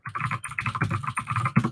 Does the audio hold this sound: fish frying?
no